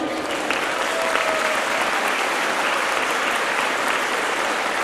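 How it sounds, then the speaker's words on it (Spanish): Sustained applause from an audience, dense steady clapping throughout with no pauses. "les pido un aplauso inmenso"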